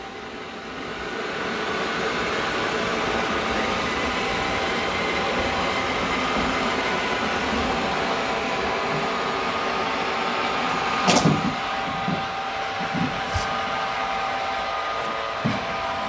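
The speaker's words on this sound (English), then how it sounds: "The Dreame's gonna wash its mop pads first and empty everything out of it." A Dreame L20 Ultra robot vacuum's dock runs a steady, loud whirring drone as it washes the mop pads and auto-empties the dustbin, with a few sharp clunks and knocks near the end.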